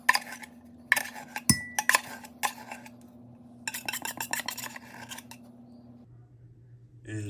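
A spoon scrapes thick coquito mixture of coconut milk and evaporated milk from a can into a container, giving several bursts of close scraping and clinking with short pauses, over a steady low hum.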